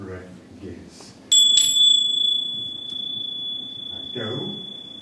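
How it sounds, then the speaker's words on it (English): A bell rings in a stage performance of Macbeth: a bright, sustained tone begins partway in and holds steadily to the end, with quiet voices before and after it. "The bell invites me."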